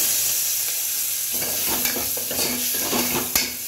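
Tomatoes and spices frying in a masala base for masala bhat with Charminar basmati rice, a steady close sizzle broken by a run of scraping stirs in the pan, no voices.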